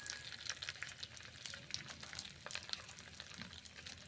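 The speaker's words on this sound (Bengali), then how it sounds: "বাদামগুলো ভেজে নিচ্ছি" Peanuts fry in a pan, a soft, close crackling sizzle with busy popping and stirring over a few seconds, no talk.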